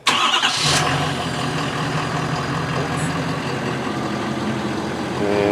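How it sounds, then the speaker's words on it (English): A truck engine with its factory exhaust cranks briefly and fires, then settles into a steady, close idle rumble that carries on to the end with no voices. "capturing the sound of the factory exhaust."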